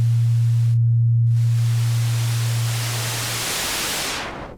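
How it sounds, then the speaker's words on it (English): A Craft Synth 2.0 synthesizer sweeps from a loud hissing noise into a tone, with a low steady hum underneath that drops away as the hiss brightens and then fades out at the end. "So we can do a transition from noise to a sine tone"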